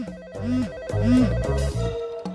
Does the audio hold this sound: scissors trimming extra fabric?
no